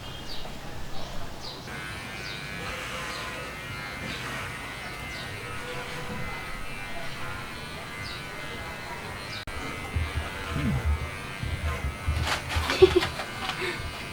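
An electric hair clipper trims a dog's fur with a soft, continuous buzz that stays close and fairly quiet, while a person talks quietly over it throughout.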